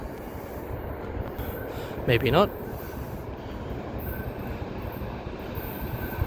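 A freight train rumbles steadily at a distance near Cowan, with a brief wheel squeal midway; a voice speaks briefly over the continuous rolling noise.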